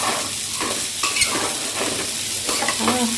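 Mutton curry stirred in a pan, a spoon scraping and turning the meat in repeated strokes over a steady close sizzle.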